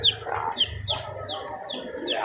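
Chickens cluck repeatedly in short bursts, fairly close, over a low steady background hum.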